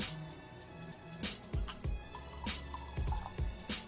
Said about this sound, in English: In order to nose whisky, it's important to add water.